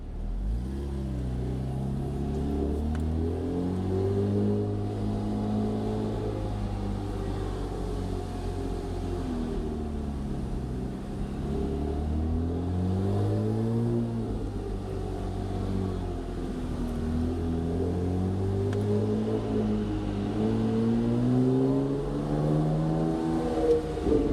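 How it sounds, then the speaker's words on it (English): Porsche 987/997 fitted with an NHP exhaust with sound valves, pulling through the gears from first; a steady, loud engine note rises and falls with each acceleration and shift for the whole stretch, with no talking. "You also get a chance to hear this wonderful exhaust that we sell, the NHP exhaust with sound valves."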